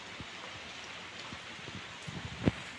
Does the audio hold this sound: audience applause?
no